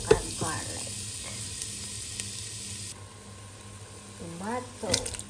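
Chopped onion and garlic go into hot oil in a pan for a home-cooked dish, a steady close sizzle at the start that drops to a lower crackle, with someone talking over it.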